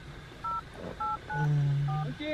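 A telephone keypad dials out in a remote area, giving a quick run of about four short, clean beeps at moderate volume, with a low steady tone sounding beneath the later ones.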